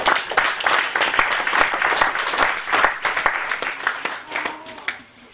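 A church congregation claps during a sermon, lively uneven applause with sharp individual claps rising and fading, voices faintly mixed in.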